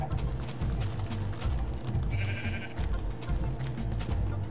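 A sheep bleats once in Minecraft amid a busy bed of low rumbling and clattering game sounds, fairly faint in the mix.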